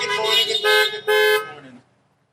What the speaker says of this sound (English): You might have heard that car horn honking.